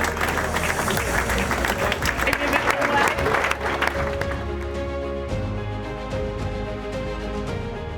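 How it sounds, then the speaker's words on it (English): An audience at a football-club conversation event greets a former Ipswich Town player with a loud, dense wash of applause and cheering that later eases into quieter sustained clapping, while an announcer's voice rises over it. "Make some noise for the one and only Johnny Wark"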